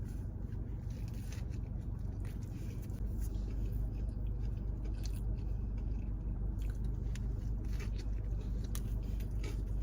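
Close, wet chewing and squishing of a burger with grilled onions, pickles and lettuce, continuous under a steady background hum, with no talk.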